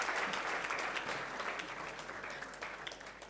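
An audience at a library expo applauds with steady, moderately distant clapping that gradually tapers off.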